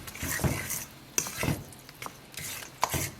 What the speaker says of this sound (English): We're going to stir in our water.